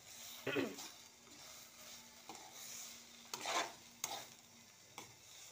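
Garlic stirred in a frying pan with a generous amount of oil, giving soft scraping strokes and a light sizzle, several distinct stirring bursts spread through the clip, close and moderately quiet.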